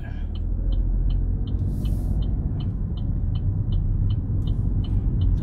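A car on a driving-test road course rumbles steadily as it pulls away, with a low engine drone and a regular ticking indicator throughout; no talk is heard.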